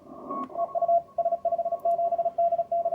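CW Morse code signals on a radio receiver through an 800 Hz filter: a steady beeping tone keying dots and dashes in quick rhythm over faint background hiss.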